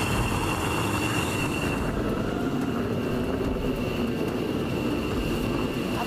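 Aircraft arriving and touching down on a runway at Holloman, a loud, steady engine roar filling the whole stretch, with the high-pitched whine easing after the first couple of seconds, with no talking.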